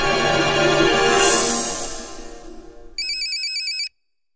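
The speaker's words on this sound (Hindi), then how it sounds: "अरे मुख्यमंत्री जी का फोन।" A phone ringtone plays loudly, a melodic tone fading out, followed by a bright electronic ring pattern that cuts off abruptly.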